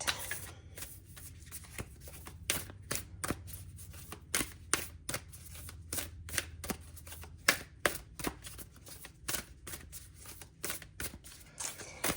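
Oracle cards being shuffled in quick repeated bursts, crisp riffling snaps at an uneven rhythm, close and fairly quiet with no talking.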